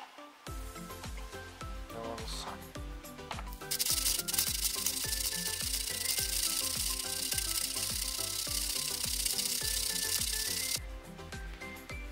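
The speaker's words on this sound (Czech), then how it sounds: "Zkusíme ten druhý, aby to bylo nabroušení seker." An axe blade is drawn repeatedly through a Fiskars sharpener, giving a steady rhythmic scraping and rasping of steel on the abrasive, close and fairly loud, with a harsher grinding stretch in the middle.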